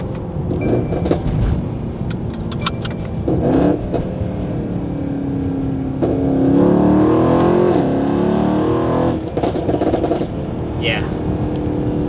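Mercedes-AMG E63s with PTG carbon fiber intakes revving under throttle, engine drone rising with a faint turbo spool whistle, people talking over it inside the car.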